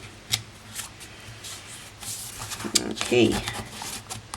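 Thick designer series paper being folded and creased for a papercraft bowl, with a few crisp rustles and scrapes building toward a louder crinkle near the end, heard close up under brief talk.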